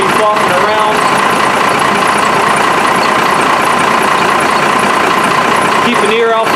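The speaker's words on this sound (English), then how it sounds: "Now I'll let the engine warm up a little bit and take it for a test drive." A steady, loud diesel engine idle from a first-generation Cummins truck fitted with an HE351 turbo rumbles continuously throughout, with no changes in pitch or rhythm.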